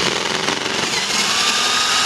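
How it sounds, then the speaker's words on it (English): A cordless drill bores through the inner plastic of a Defender Series comp splitter during installation, a steady close whirring grind that runs unbroken and fairly loud. "take your drill bit, your drill, make sure it's fully charged"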